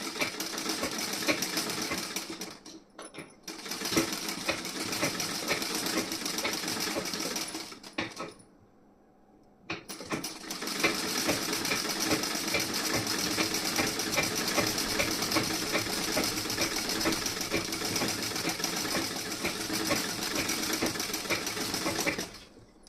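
A sewing machine stitching the back part of a garment runs in long continuous whirring bursts, close and steady, with a brief pause near the start and a longer stop around the middle before resuming.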